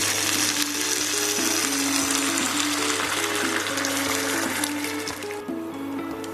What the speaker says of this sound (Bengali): এরপরে আমি 250 থেকে 300 ml মতো জল দিয়ে দিচ্ছি।